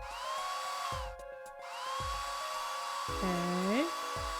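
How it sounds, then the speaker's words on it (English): In the Apollo Justice video game, a dryer blasts plaster with a steady, high-pitched whirring hum, broken by brief game sound effects and rising electronic tones. "Just press A to blast it with that dryer."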